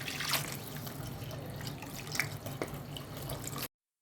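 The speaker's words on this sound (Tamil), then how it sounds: "மொத்தமாக நம்ம 2 லிட்டர் அளவுக்கு தண்ணி ஊற்றிக்கலாங்க." Water pours steadily from a bottle into a pot of rice and lentils for nombu kanji, a soft continuous splashing trickle heard alone at low level.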